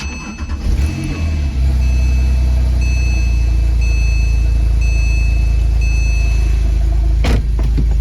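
A Porsche 911 engine cranks briefly and catches, settling into a loud, steady idle heard close up from inside the car, with a short mechanical whir near the end.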